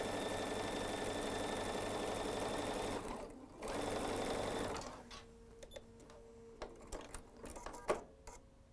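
Sewing machine stitching quilt pieces, a fast rhythmic run with a brief pause, then stopping into scattered clicks and fabric-handling knocks.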